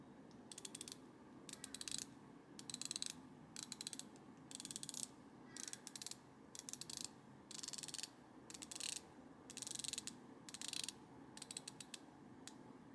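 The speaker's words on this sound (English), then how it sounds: "because it is a diver, the bezel can be rotated to 120 clicks for timing" An Omega Seamaster dive bezel rotated by hand, producing rapid runs of small metallic ratcheting clicks in repeated bursts with short pauses, very close and quiet.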